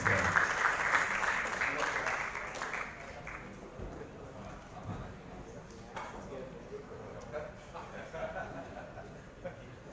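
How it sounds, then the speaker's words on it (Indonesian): Audience in an auditorium at a literary festival discussion applauds, loud at first then fading into lighter scattered clapping with voices and murmuring beneath. "Tepuk tangan untuk Pak Marlo Bandem"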